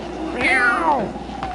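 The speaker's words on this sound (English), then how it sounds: "Get that cat out of here." A cat lets out one clear, drawn-out meow that rises and falls, close and fairly loud amid room noise.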